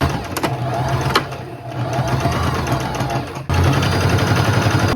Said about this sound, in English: And now I can sew from this point all the way down.